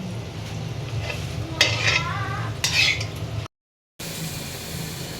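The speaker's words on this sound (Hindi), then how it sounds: "कितना सारा घी डलता है ना मम्मी। देसी घी का हलवा।" Halwa stirring and frying in plenty of desi ghee: a constant close sizzle with two bursts of louder scraping and spatter, then a brief dropout of silence before the frying resumes.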